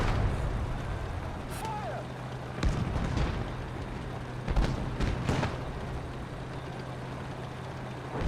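Enemy tanks rumble at a distance in the Eastern Front World War II game Gates of Hell Ostfront, a faint low engine drone broken by several dull booms and brief crashes, with a voice speaking now and then.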